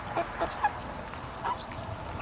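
Chickens at a garden fence cluck softly in short scattered calls while pecking at weeded leaves, with a faint rustle underneath and no talk.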